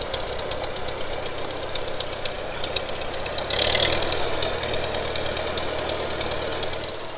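A 1956 Farmall 200 tractor engine runs steadily with a knocking, mid-pitched idle-like chug while planting sweet corn, continuous and fairly close, with a brief louder surge midway.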